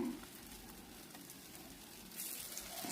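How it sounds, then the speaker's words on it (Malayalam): Banana fritters in batter, Kerala street-style pazham pori, shallow frying in oil, give a steady, close sizzling hiss that stays even throughout, with no talking. "നമ്മളൊരു ഷാലോ ഫ്രൈ ആണ് ചെയ്തെടുക്കുന്നത്."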